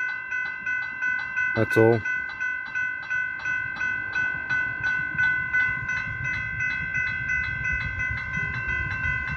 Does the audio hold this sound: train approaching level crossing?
yes